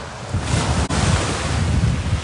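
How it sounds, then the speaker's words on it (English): Strong east wind roars continuously against the microphone, a loud steady gusting rush through trees with no voices. "So it's very windy this morning. It's an east wind"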